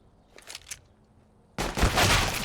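A flashbang grenade goes off in a tactical shooter video game, a sudden loud, sustained blast that fills the second half after brief faint clicks and rustles.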